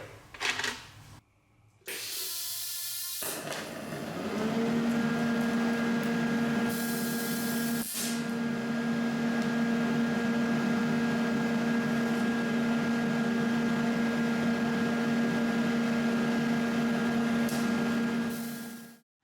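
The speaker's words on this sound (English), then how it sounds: "I reground my tungsten, set to DC, use the bronze welding flux, and it welds reasonably well" A TIG welder running on DC with bronze welding flux makes a steady, loud, sustained buzzing hum that lasts well over ten seconds after a couple of short clicks and starts.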